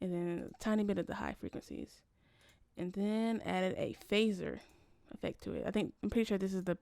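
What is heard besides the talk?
None of the usual background noises is heard.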